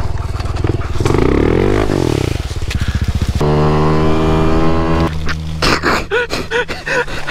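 A pit bike engine in a video game sputters and whines through repeated loud cranking bursts and rising and falling revs, then cuts out into choppy stuttering pulses.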